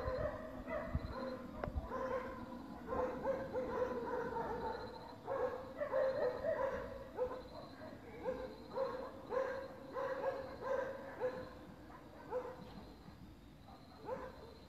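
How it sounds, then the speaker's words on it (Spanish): Dogs barking outside a Pentecostal church at night, a repeated series of moderately distant barks and yips in uneven bursts over quiet background. "ya que los perros no nos permiten escuchar"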